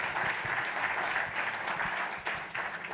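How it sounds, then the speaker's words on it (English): Applause for the speakers at a City of Lancaster public forum on the Home Rule Charter, a moderate crowd clapping steadily at even volume, with a few nearby claps and shuffles standing out toward the end. "Let's give a round of applause to our speakers."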